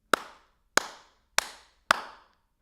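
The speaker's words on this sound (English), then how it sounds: "If I clap my hands" Four single hand claps in a studio room with reflective surfaces, each a sharp crack followed by a clearly audible reverb tail of roughly half a second, evenly spaced and heard alone.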